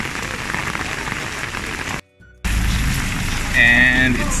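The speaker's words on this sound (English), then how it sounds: "It's still raining here in Luang Prabang. It even rained harder." Heavy rain pouring down during a morning alms-giving ceremony in Luang Prabang, Laos, a loud, dense wash that drops out briefly and then returns even stronger.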